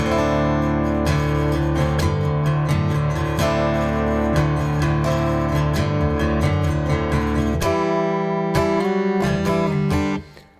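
The chorus riff is played slowly on guitar, with thumb-picked alternating bass notes. The strummed, distorted chords ring out close and loud in a steady rhythm, ending with a few choppy stabs.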